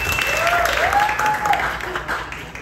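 Audience applause at a stand-up comedy crowd-work show, a steady wash of clapping filling the room for a couple of seconds with crowd noise mixed in.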